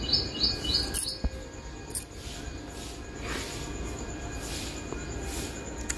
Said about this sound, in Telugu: రకరకాల పక్షులు గూట్ల నుండి బయటకు వెళ్తుంది.